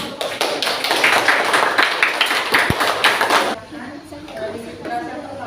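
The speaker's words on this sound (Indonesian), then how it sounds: "beri tepuk tangan untuk kelompok." A classroom group applauds a group of students: dense, fast clapping from many hands for about three and a half seconds, then it stops abruptly and a quieter room with voices remains.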